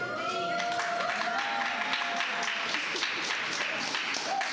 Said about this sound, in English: they brought their own cheering section